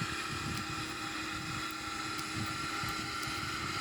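A Boeing 777-300ER's engines roar steadily at full takeoff power, a loud, continuous broadband rumble with a whining hum heard from inside the aircraft and no speech.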